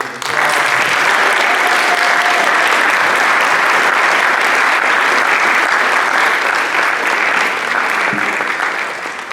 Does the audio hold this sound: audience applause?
yes